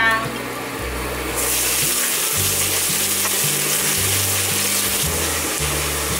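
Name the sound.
minced ginger sizzling in black sesame oil in a wok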